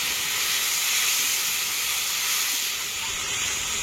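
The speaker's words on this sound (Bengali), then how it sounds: "এবার টমেটোর পিউরিটা দিয়ে দেবো।" Tomato puree hitting a hot pan of oil with whole cardamom, cinnamon, cloves, cumin and fennel seeds for a paneer masala, giving a loud, steady, close hiss of sizzling that holds for the whole stretch.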